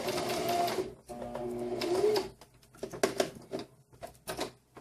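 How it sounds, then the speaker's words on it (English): A sewing machine stitches a fabric lanyard in close bursts of rapid mechanical whirring, pausing between runs as the work is turned at corners, with faint handling clicks in the gaps. "then stitch all over, all the way till you get back to the beginning"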